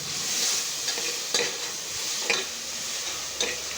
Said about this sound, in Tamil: அதெல்லாம் சேர்ந்து அப்படியே பிறக்கி விட போகிறோம்